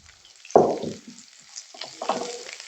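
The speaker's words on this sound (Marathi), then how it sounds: "आपण आता यामध्ये दोन कांदे चिरून घालूया" Chopped onions hitting hot oil in a pan for a kofta curry, a sharp sudden sizzle that fades, then a second burst of frying and stirring noise, close and clear with no talking.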